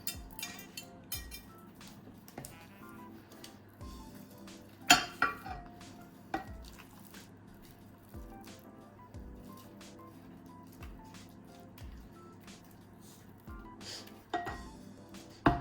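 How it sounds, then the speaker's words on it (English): Meatball-side mash being spooned into a small casserole dish, with repeated clinks and scrapes of a utensil against the dish and a few louder knocks, close and without speech. "So what I do now is I put it into a casserole, just a little one like that."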